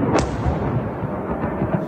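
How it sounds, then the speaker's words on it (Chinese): A US airstrike on an ammunition depot in a western Iraqi border town opens with one sharp, loud blast, followed by a steady, heavy rumbling roar of continuing explosions. "弹药库、榴弹直窜天际，现场爆炸声不断。"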